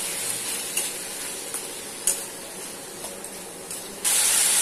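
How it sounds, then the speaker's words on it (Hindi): Vegetables with tomato and salt sautéing in a pan for a bottle gourd manchurian, giving a steady close sizzle with brief crackles and a louder hissing burst near the end, with no talking. "दो मिनट सब्जियों को भून लेंगे।"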